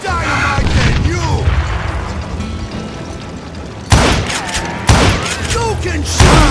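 Heavy booming dynamite blasts and gunshots in the Wild West shooter Call of Juarez Gunslinger, a rumbling roar followed by three sharp loud explosive hits in quick succession.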